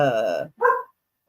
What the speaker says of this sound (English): The dog's barking again when they walk in.